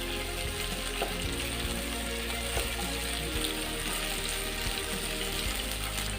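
Capsicum and onion frying in a pan, a steady dense sizzle that holds evenly throughout with faint stirring scrapes, close and alone.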